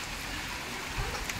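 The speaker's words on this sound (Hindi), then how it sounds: "यहाँ तो बहुत तेजों से बारिश हो रही है" Heavy rain pours down in a village, a dense, continuous hiss of falling water close by, steady and broadband across the whole short stretch.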